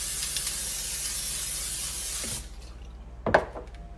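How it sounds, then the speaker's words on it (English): Cooking spray hisses steadily into a 9x13 baking pan for about two seconds, then stops, and a short clunk follows in a quiet kitchen. "I'm gonna spray my pan."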